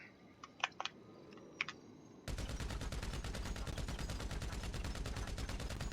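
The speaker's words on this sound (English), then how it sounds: "I am aimed, downrange, I'm firing." A fully automatic gun fed from a 200-round drum fires a long, fast, steady burst in a GTA V mod, loud and unbroken, after a few sparse clicks and taps.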